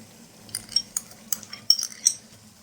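Yogurt whisked with a spoon in a small bowl and added to a chicken Afghani karahi: a close, irregular run of light metallic clinks and taps, with no talking.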